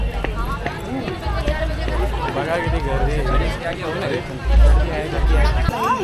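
Crowd in the queue at Trimbakeshwar Jyotirlinga temple in Nashik, a steady close babble of many overlapping voices and shuffling with low rumbling underneath, and people talking nearby.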